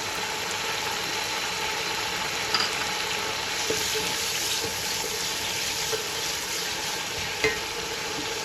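Green chillies fry in oil in a pan for aloo matar pulao, an even sizzle broken by a few soft knocks of a spoon.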